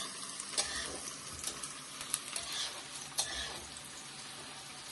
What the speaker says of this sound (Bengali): আর একটু পেঁয়াজটা ভেজে নিই, তারপরে চিকেনটা দিয়ে দেবো এর মধ্যে